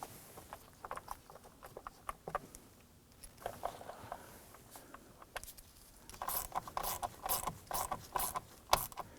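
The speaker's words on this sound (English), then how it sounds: "Then we'll come on back and use our ratchet to snug them down." A hand ratchet clicks in quick bursts as it snugs down bolts on the combination switch cover of a 2015-2020 Ford F-150. The steady rapid pawl ticking is close and clear, and it grows busier toward the end.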